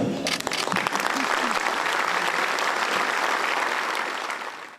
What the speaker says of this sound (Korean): 더불어민주당 의원들은 연설 중간중간 긴 박수로 화답했습니다